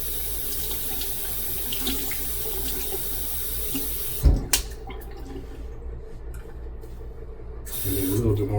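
Tap water runs steadily onto a shaving brush at a bathroom sink, a continuous rushing splash with a brief clatter midway, close and fairly loud, while someone talks over it.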